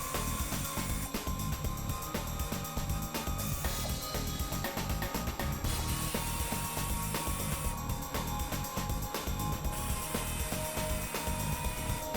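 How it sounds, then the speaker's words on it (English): An air-powered impact ratchet spins out the 10mm and 12mm skid plate bolts on a Toyota Tundra, giving a steady, close mechanical ratcheting chatter that runs nonstop with no speech. "I'm using an impact ratchet that is powered by air, but any ratchet socket combo would work."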